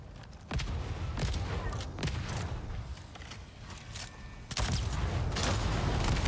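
Gunfire in a video game as a player shoots a valve in a base: several sharp, separated shots crack out at irregular intervals over a continuous low rumbling ambience, moderately loud and close.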